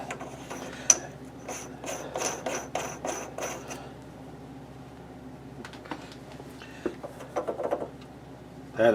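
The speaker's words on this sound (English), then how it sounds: "let's put our adjustable nut that just screws on the end of the spindle here" An adjustable nut being screwed onto the spindle of a Logan lathe gives a run of quick metallic clicks and ratcheting, then softer scattered handling clinks and a final clunk.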